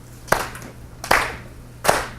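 A class in a lecture hall claps together in quarter notes: three sharp, evenly spaced group claps about a second apart, each ringing briefly in the room. No one speaks.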